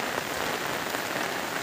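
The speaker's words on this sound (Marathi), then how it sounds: "परत पाऊस चालू झाला आहे" Steady rain falls outdoors in the Konkan countryside, a continuous dense hiss of drops striking surfaces, loud and even throughout with no voices.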